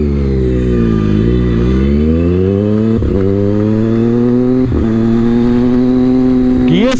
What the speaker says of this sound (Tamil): கியர் ஷிஃப்ட் பண்ணுறப்ப வெறித்தனமாக பாப்பாகுது டப்புன்னு.